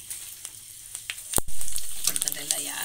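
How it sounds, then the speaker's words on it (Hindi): Roti papad fry in hot oil with a loud, crackling sizzle that surges as a piece drops in and then settles into steady bubbling, with a few soft taps in between. "रोटी के पापड़ देखिए मैं फ्राई कर रही"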